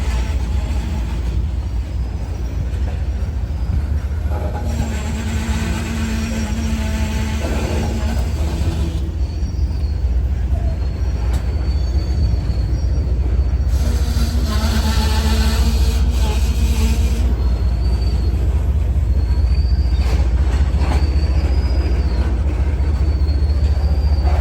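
A coal train crawls past with its locomotive making strange noises. Loud, continuous rumble and clatter of wagons fill the air, with metallic wheel squeals and screeching tones rising and fading throughout.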